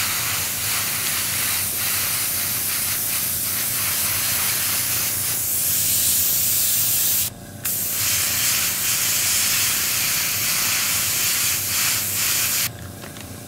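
An airbrush sprays paint onto a Tamiya Panther Type G model tank track piece, a close, steady hiss that cuts out briefly twice before resuming.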